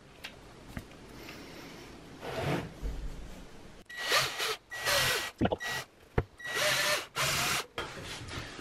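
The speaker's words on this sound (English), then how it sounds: "Well, at least I didn't drill through, I think." A power drill bores into a cheap MDF wood frame in several loud bursts of whirring and grinding, separated by short pauses, close to the microphone with no voices.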